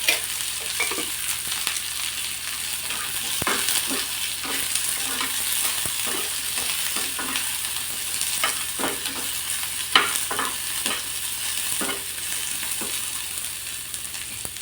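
Onion frying in oil in a pan, a steady moderate sizzle close by, punctuated by regular soft scrapes and taps of stirring.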